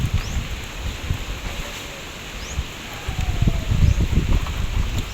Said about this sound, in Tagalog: Para pong nalakas-lakas na po ang hangin.